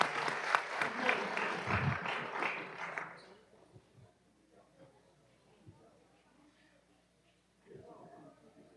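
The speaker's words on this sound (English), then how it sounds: "We want to give them a round of applause as well." Applause from an audience at a city council meeting fills the first three seconds, then fades out into quiet room noise and scattered talk.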